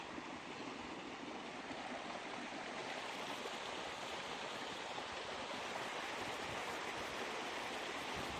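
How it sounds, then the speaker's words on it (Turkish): Flowing water rushes in a steady, even wash, like a creek running close by, with no talking. "Burası e, dere yanı. Hemen e, derenin yanı."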